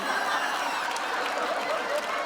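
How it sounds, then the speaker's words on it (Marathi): Studio audience at a Marathi television comedy show applauding, a steady dense wash of clapping mixed with faint crowd laughter, continuous and fairly loud throughout. "एकदा जोरदार टाळ्या अरे मारा"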